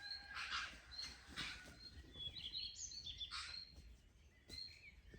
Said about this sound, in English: the bird fight going on up there.